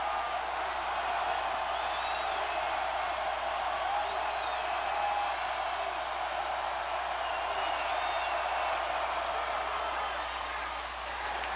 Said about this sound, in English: that side of the stadium is extremely loud